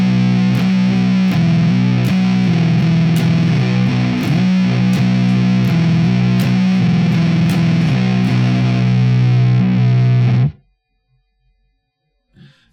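Loud distorted electric guitar chugs through a droning stoner rock riff in steady rhythm for about ten seconds, then cuts off abruptly into near silence.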